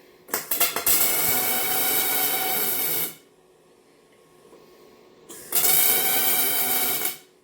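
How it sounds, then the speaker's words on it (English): A welder sputters and hisses on a bearing race in a garage, two loud sustained bursts of about three and two seconds separated by quiet. "You want to only weld on the race."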